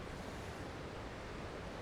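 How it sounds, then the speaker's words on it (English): Constant broadband roar of wind buffeting outdoors at Fewston reservoir on a wet morning, loud and unbroken, with no voices. "It's wet. It's, as you can see, windy."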